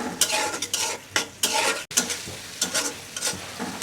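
Onion frying in a pan with tomato sauce and soy sauce, loud close sizzling broken by rhythmic stirring and scraping strokes of a spatula against the pan, about one every half second.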